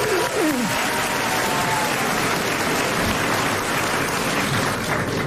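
A French television studio audience applauds steadily and densely for the whole stretch, loud and continuous, with a brief voice at the start.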